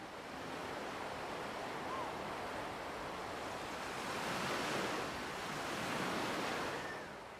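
Waves washing onto a family beach in Algeria, a soft continuous surf wash with gentle swells, fairly faint and heard alone.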